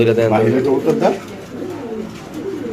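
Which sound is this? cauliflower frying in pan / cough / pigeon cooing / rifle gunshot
pigeon cooing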